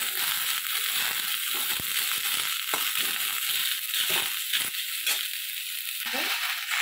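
Onion stalks and flat beans frying in a pan, a steady close sizzle with crackling pops running throughout and no talk.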